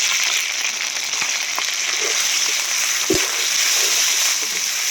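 Prawns and a ground spice paste frying in a pan, a steady close sizzle with occasional small pops and stirring clinks, continuous throughout.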